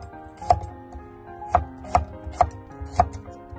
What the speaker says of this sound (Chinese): 先把它切成蒜片。